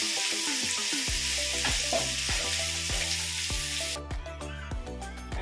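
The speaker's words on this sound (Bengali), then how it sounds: "তারপর পেঁয়াজ কুচিগুলো তেলের মধ্যে দিয়ে দিলাম, হালকা বাদামি কালার এলে তারপর টমেটো কুচিগুলো দিয়ে দিতে হবে।" Chopped onions sizzle steadily in hot oil, a dense continuous frying hiss broken by a series of regular spoon stirs and scrapes against the pan, close and fairly loud with no talking.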